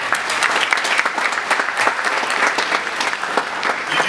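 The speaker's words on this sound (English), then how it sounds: "you deserve a round of applause for helping us." A crowd applauds at a speech event. Brisk, loud clapping from many hands fills the whole stretch as a busy, close patter with slight swells and no voice on top.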